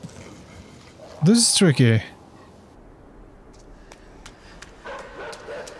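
A dog in the video game Inside barks loudly in a short burst, close and harsh, under faint background game sound; a person talks briefly before and after.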